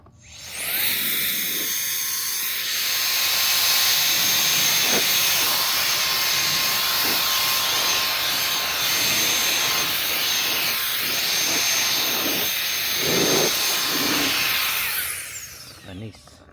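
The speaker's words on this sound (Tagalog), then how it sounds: "Sana kayanin ng blower natin ulit." A snow blower runs steadily while clearing fresh snow off a car in freezing Canadian weather, a loud, continuous high whine that holds for the whole stretch before cutting off near the end.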